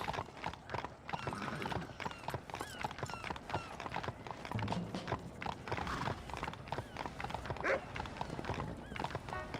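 Horse hooves clip-clop at a fast, steady gallop in the Red Dead Redemption video game, with the odd faint whinny mixed into the busy game sound.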